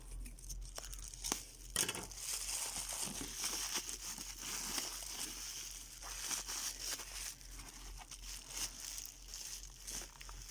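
Crinkling and tearing of tape and wrapping as a package is pulled open, with a sharp rip early on and steady rustling throughout, close by.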